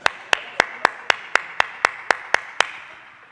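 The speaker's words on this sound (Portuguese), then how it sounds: "São palmas de cobrança." Slow, evenly spaced claps from a single person, the insistent Brazilian 'palmas de cobrança' used to demand attention at a closed house, about eleven sharp claps with a short trailing echo and no talking.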